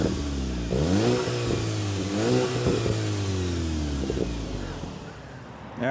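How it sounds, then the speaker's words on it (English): A 2024 Volkswagen Golf GTI SE with a real dual exhaust revs repeatedly, the engine note climbing and falling in several close, loud throttle blips before settling to a steady idle. "they have actually this dual real exhaust, and it sounds really, really good."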